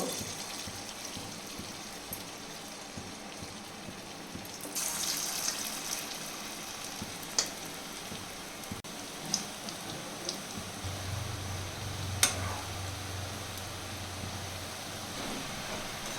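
Banana peel fritters, a batter of raw banana peel with turmeric and rice flour, sizzling and crackling steadily in hot oil in a pan. The frying grows denser midway, with occasional sharper pops, and no one speaks.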